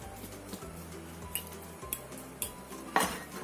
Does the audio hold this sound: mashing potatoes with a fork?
yes